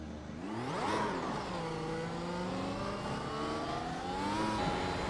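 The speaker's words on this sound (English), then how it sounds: "Alright, so let's test the F1 car now." An F1 car in a sim racing video game revs up hard, then holds a high, steady engine whine that rises and falls with gear changes, loud and close with no talking.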